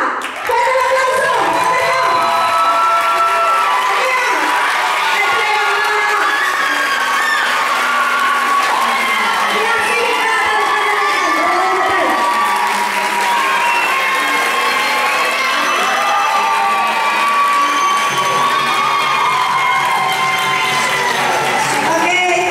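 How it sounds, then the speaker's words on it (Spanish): An audience at a pole championship awards ceremony applauds and cheers continuously for over twenty seconds, dense close clapping with whoops and shouts over music. "¡Fuerte el aplauso!"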